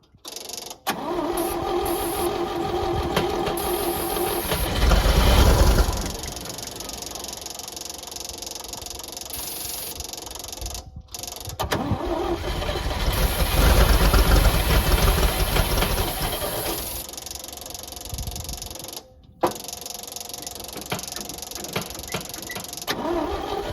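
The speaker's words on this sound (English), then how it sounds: "we got a little engine zoom zoom in a can. Let's see what this thing will do." Small engine sputtering to life on fuel poured from a can, revving in loud surges, stalling briefly, then idling and knocking unevenly between bursts.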